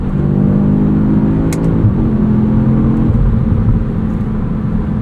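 A 2025 Audi S3 in Dynamic Plus mode revs with a deep, steady exhaust drone from inside the car, broken by a sharp pop and a few soft burbles as the note shifts.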